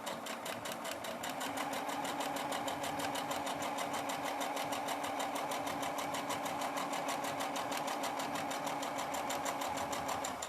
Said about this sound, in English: I'm just going to sew down the line.